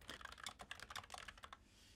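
Fast, steady clacking of keys on a Keychron K3 mechanical keyboard during a speed typing test, a dense run of close, crisp keystrokes that thins out and stops near the end, with no talking.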